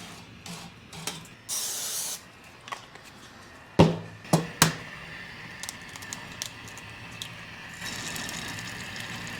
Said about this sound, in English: try and like scrape off some of this stuff while the grill's hot